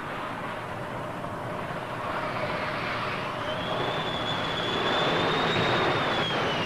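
Naval jets, Phantoms and Buccaneers, approach to land on an aircraft carrier in 1975. A broad, rushing engine roar swells louder over several seconds, with a rising whine near the end and no voices.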